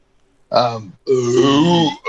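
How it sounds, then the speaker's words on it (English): A person lets out a long, croaking burp that sounds like a Star Wars creature, close and loud, preceded by a shorter guttural burst. "your burp sounded like a Star Wars creature for a second"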